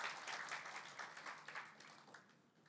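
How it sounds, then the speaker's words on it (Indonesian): A church congregation claps in warm, steady applause that rises briefly and then fades, heard from a moderate distance. "Kasih tepuk tangan yang meriah buat Tuhan."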